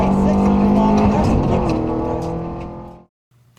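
A rally car's engine roars at high revs on a forest stage at night during the Southern Ohio Forest Rally, loud and steady before cutting off abruptly near the end.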